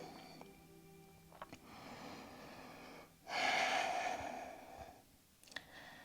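Breathing during a full-body vinyasa yoga flow: a strong, breathy exhale swells midway, with softer breaths before and after over a quiet room.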